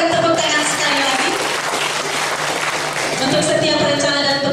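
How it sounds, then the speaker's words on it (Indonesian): Congregation applauding inside GMIT Ebenhaezer church in Nusa Tenggara Timur during a launch event, a steady wash of hand clapping from a crowd that fills the hall for several seconds at moderate loudness. "Kita berikan tepuk tangan sekali lagi"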